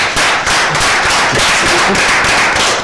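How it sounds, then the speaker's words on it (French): Loud, dense applause from an audience honouring a mother at a thank-you ceremony, steady crackling claps filling the whole stretch with a faint cheer underneath. "On applaudit une fois encore pour notre maman."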